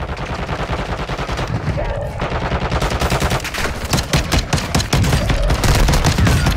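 Rapid gunfire bursts out in Call of Duty: Modern Warfare II on the Vondel map, loud, close shots crackling in quick succession and building into dense volleys toward the end, with players talking over it.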